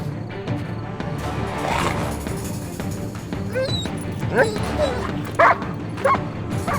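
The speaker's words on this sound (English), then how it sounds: "The night erupted in the cries of a howling dog." A dog barks and yelps in short bursts at night, with whining cries rising over a busy, noisy background, several sharp calls standing out near the end.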